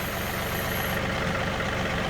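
A tractor engine runs with a steady, heavy drone close by while digging a pond with a tooth bar bucket, the low churning sound constant throughout.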